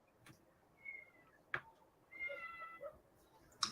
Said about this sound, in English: Oh, your cats.